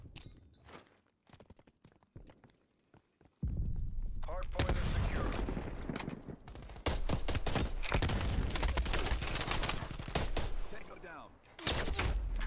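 Type 63 rifle gunfire in the video game Call of Duty Cold War, sparse sharp shots at first, then a loud, sustained barrage of rapid rounds close up, with a few brief breaks.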